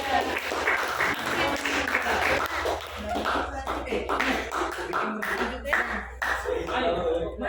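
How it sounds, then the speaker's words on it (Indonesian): A school classroom gives a student presentation group a round of applause. Many hands clap in quick, uneven bursts that stay close and fairly loud for several seconds, mixed with light chatter and shuffling. "Beri aplaus dulu kelompok"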